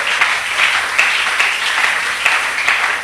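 A church congregation claps and cheers for Jesus at a French-language revival service, steady sustained applause with rhythmic pulses throughout, loud and close.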